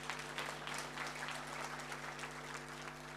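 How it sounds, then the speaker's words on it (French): An audience applauds in an indoor hall during a company presentation, a steady moderate clapping wash over a constant low hum. "Applaudissez pour ce monsieur, s'il vous plaît."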